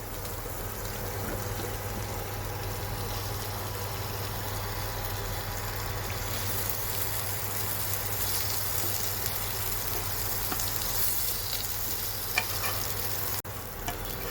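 Soaked jackfruit pieces frying and being stirred in spice masala with turmeric for a traditional Konkan fansachi bhaji, a steady close sizzle running throughout with occasional scraping and clinks of the spoon against the pan.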